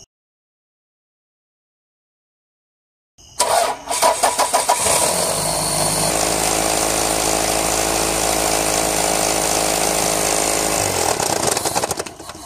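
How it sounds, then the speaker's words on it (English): A Toyota Camry's 2.2L 5SFE four-cylinder cranks and fires after about three seconds of silence, then settles into a loud, steady idle close to the engine bay, with a faint belt chatter running through it. "we'll start the car now and see how the belt looks"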